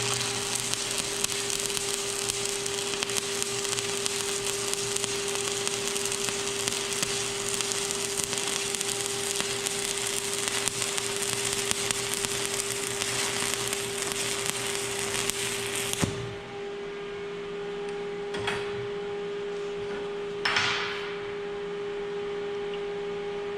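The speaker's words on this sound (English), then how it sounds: "We're going to restart that weld." Stick welding a flat fillet weld with a 1/8 inch 7018 rod sends out a loud, continuous crackle and sizzle for about sixteen seconds. The arc then cuts out, leaving quieter room noise and a couple of brief sputters.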